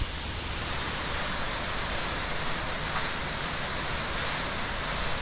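A waterfall in the Snake River Canyon near Twin Falls, Idaho, roaring as a dense, constant broadband rush with no breaks, loud and close.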